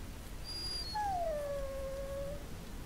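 A dog in the video game Dragon Age Origins gives a drawn-out whimpering whine with a brief higher yip before it, heard alone over a steady game background.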